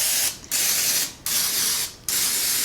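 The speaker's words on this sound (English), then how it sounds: "Now the first thing I'm going to do is spray this really good" Three bursts of cooking spray from an aerosol can aimed into a pan, each a loud, close hiss lasting under a second, separated by short pauses.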